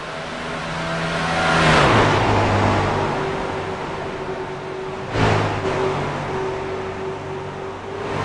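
Stock race cars lapping the Kentucky track in a classic motor sports 150 race, engines roaring past with strong Doppler sweeps, one car swelling loud then fading before another passes, with a steady hum of racing behind.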